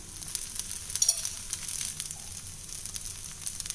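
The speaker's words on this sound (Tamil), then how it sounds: "இப்போ தோசை ஊற்ற ஆரம்பிக்கிறேன். கொஞ்சம் சுற்றிலே எண்ணெய் விட்டுக்கலாங்க." Dosa batter sizzles on a hot pan with oil drizzled around it, a soft, steady crackling hiss with small pops, fairly quiet and close, with no talking.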